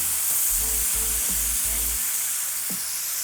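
Burger patties sizzle in a hot pan for keto burger bowls, a continuous loud frying hiss with low rhythmic thumps beneath and a couple of short scraping knocks; no one speaks.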